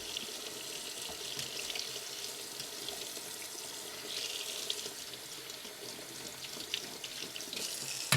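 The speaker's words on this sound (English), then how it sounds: "I'm just going to rinse these off." Tap water runs steadily into a sink while jalapeno and green peppers are rinsed, a constant close hiss and splash with small shifts as the peppers are moved under the stream.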